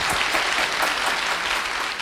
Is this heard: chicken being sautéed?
no